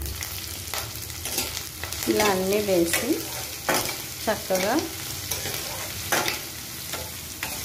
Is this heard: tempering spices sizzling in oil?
yes